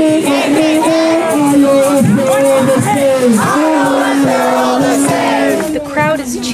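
A large protest crowd chants slogans in unison, loud and sustained, the rhythmic voiced chant rising and falling over steady crowd noise throughout.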